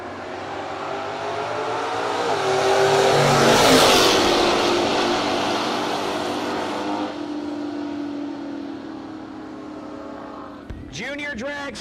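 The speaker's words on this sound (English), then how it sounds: "As Nick Besaw and Steve Overtanic will stage up now." Drag racing cars at a no-box drag strip event roar loudly, swelling to a peak and fading as they launch down the track, with an announcer talking over the engines.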